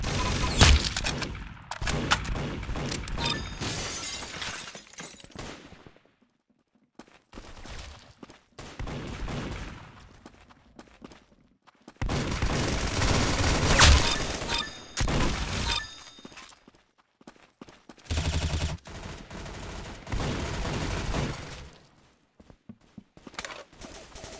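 Rapid gunfire bursts from the Roblox shooter Arsenal, loud dense volleys of shots and impacts in several clusters separated by short quieter gaps.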